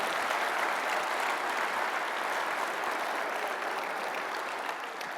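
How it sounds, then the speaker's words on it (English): Conference room audience at a fire rescue gathering applauds in a thick, sustained roar of clapping, uniform and unbroken for several seconds. "Give them a round of applause."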